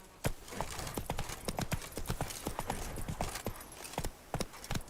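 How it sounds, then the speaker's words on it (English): Horse hooves clip-clop at a steady gait in The Witcher 3: Wild Hunt, Blood and Wine expansion, giving a regular run of close, crisp strikes with no speech over them. "Whoa there, Roach."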